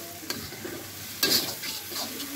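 Garlic and onion paste sautés in oil, a soft steady sizzle broken by a couple of stirring scrapes and bursts of louder crackle, heard close without talk.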